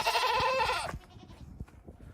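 A castrated male goat bleats in a rural Japanese farmyard: a loud, wavering harmonic cry lasting nearly a second, followed by quieter scuffs and faint background noise.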